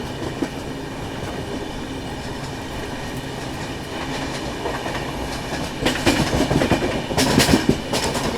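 A passenger train drawn by a Tughlakabad-based diesel locomotive rumbles along with steady rail noise and clickety-clack wheel beats, growing louder and more rattly toward the end.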